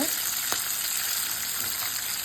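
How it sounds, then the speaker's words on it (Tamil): Ridge gourd sautés in a hot pan for a thuvaiyal side dish, giving a steady, close, hissing sizzle with faint stirring scrapes. "என் பிள்ளைங்க வதக்குறாங்க பக்கத்தில் நின்றுக்கிட்டு"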